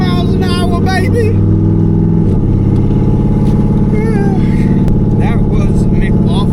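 LS2-swapped El Camino doing a one-wheel peel burnout, a loud sustained engine roar with tire spin, close by, while people talk over it.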